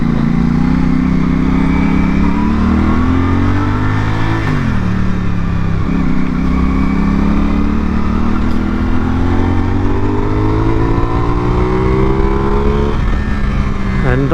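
A CFMOTO 450SRS parallel-twin sports motorcycle with a 270-degree crank accelerates hard through several gears, its engine note climbing and dropping at each shift, loud and close from the rider's position throughout.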